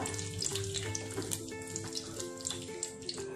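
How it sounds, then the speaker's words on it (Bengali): Three bay leaves sizzle as they drop into hot mustard oil in a cooking pot, a steady close hiss and crackle that runs without a break, with no talking. "আমি একটা হাঁড়িতে সর্ষের তেল গরম করে নিয়েছি। এবার এতে আমি 3টে তেজপাতা"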